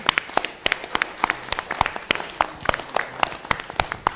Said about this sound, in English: Can we give a round of applause to the candidates this evening?